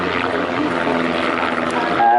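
Aerobatic propeller aircraft performing at the Bournemouth Air Festival, its steady engine drone loud and continuous throughout, rising slightly at the end as it pulls up.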